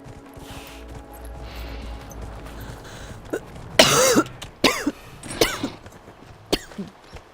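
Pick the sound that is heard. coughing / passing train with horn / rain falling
coughing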